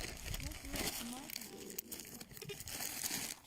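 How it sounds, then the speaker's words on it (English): Plastic bag crinkling and rustling during the excavation of a World War I mass grave of Imperial Russian soldiers, soft, close and irregular, with voices talking around it. "So they go in a plastic bag, separate plastic bag, and with the remains."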